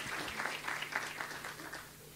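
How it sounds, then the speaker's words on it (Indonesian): Faint applause from a church congregation during a sermon, a soft, steady patter of clapping heard from a distance for about two seconds. "Beri tepuk tangan dulu buat Tuhan gitu."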